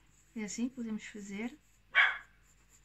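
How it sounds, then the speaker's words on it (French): A small pet dog lets out a single sharp bark a moment after a person finishes speaking indoors, loud and brief against an otherwise quiet room. "c'est mon chien qui aboie."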